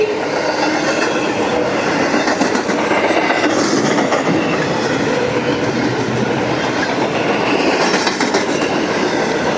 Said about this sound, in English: the train is approaching the north end of the siding at Hanson.